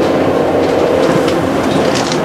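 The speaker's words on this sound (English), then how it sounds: "So we're going to board this train once it's ready to board." A train at Hull station on the Yorkshire Coast Line, a loud close steady rumble with a mechanical drone and faint rhythmic clatter and squeal, no talking.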